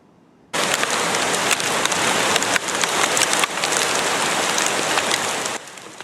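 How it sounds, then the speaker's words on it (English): Dense hail hammers down on an osprey nest during a storm in Colorado, a loud, constant clatter that starts abruptly and drops away near the end. "A female osprey was pelted by hail during a storm in Colorado earlier this week."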